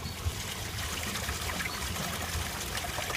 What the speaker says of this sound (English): And then you flush again.